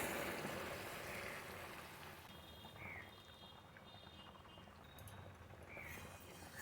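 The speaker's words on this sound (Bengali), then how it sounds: "এখানে আমি একটু গরম জল দিয়ে দিলাম" Hot water poured into a pot of mutton curry with potatoes, a steady watery splashing and bubbling that runs close and continuous, softening slightly midway, with faint high chirps in the background.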